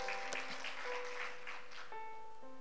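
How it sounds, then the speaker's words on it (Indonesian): A church congregation claps in a dense burst of applause, fairly faint, with sustained tones from instruments ringing through it. "Tepuk tangan bagi Allah kita."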